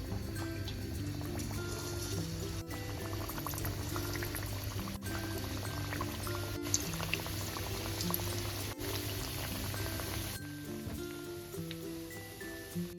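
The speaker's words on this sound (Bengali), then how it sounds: "এবার আমি আস্তে আস্তে এক এক করে সিঙ্গারাগুলো দিয়ে দেবো।" Spinach and paneer samosas fry in hot oil in a wok over a medium flame, giving a continuous close bubbling with sharp intermittent clicks and pops.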